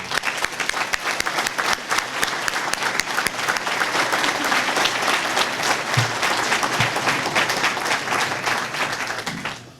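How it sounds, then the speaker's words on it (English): The crowd at a fire and emergency services awards, promotions and recognition ceremony applauds standing military veterans. A full room claps in a sustained wash with a few thumps, then the clapping tapers off at the end. "and give them a big round of applause."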